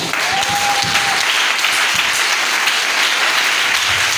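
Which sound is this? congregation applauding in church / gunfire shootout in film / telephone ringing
congregation applauding in church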